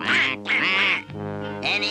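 Loud, nasal duck quacks close by, three drawn-out calls in quick succession with brief gaps between them.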